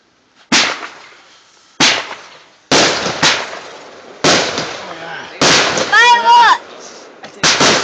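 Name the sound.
fireworks exploding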